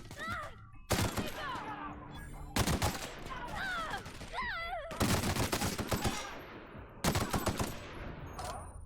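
Repeated shotgun blasts in a firefight in the video game The Outer Worlds, loud bursts arriving roughly every second or two amid groaning enemy voices and combat noise.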